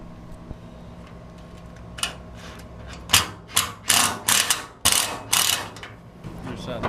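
A hand ratchet drives thread-cutting bolts while an Armor Tech Safari rack is installed on a Polaris 900/570, giving a run of close, loud clicking bursts in quick repeated strokes that start faint and grow stronger, with no talk over them.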